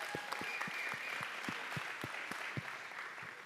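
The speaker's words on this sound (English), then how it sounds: "Let's give her a round of applause." A town hall audience hosted by the mayor claps steadily, with distinct nearby hand claps standing out over a dense wash of applause that fades slightly toward the end.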